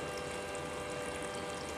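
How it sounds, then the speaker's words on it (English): Water steadily pumped from a bottle into the tubing of a PC water-cooling loop in a desk case build, a continuous, even liquid rush with a faint pump whir and no pauses. "I want all of the water in this bottle to go into this tube"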